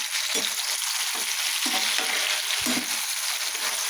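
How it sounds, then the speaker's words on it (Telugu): Masala frying in a pan and stirred with a spoon, a steady close sizzle broken by a handful of scraping stirs and soft spoon knocks against the pan. "ఇప్పుడు చెంచాతో చక్కగా తిప్పుకుందాం."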